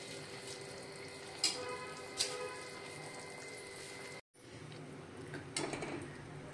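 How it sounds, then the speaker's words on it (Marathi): Tomato saar curry simmers in a pot with a soft, steady bubbling and faint watery ticks, quiet and close, with one brief gap partway through. "आता आपण हे 2 मिनिटं असंच थोडी उकळी आणत ठेवूया।"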